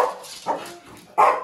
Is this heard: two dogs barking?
yes